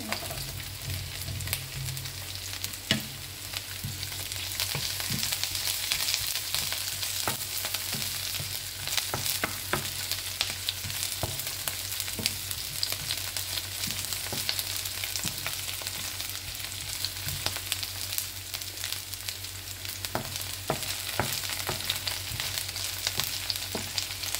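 Vegetables frying in oil for ginataang gulay, a strong continuous close-up sizzle with frequent small crackles and occasional stirring clatter, steady throughout with no voices.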